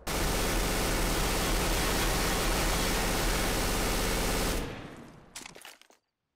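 A burst of dense, loud gunfire and explosive noise in Counter-Strike: Global Offensive runs steadily for about four and a half seconds, then cuts off into a few scattered trailing shots that fade out.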